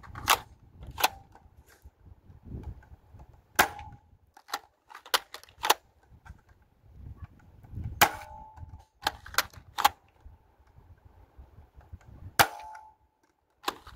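Dart Zone Max Aeon Pro blaster firing short darts indoors, a series of sharp, close snapping shots with a metallic ring, spaced irregularly with quiet handling noise between.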